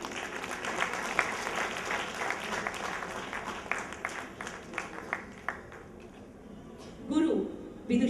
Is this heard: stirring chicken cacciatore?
no